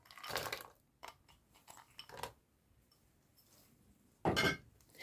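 A spoon stirs chocolate into hot custard cream with butter for a chocolate nut cake, giving a few short scraping, clinking strokes against the bowl, separated by quiet pauses, with one louder stroke near the end.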